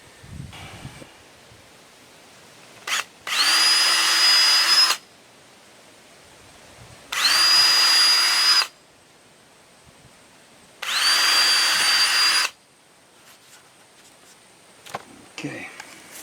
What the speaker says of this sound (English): I'm going to pre-drill them so it doesn't crack.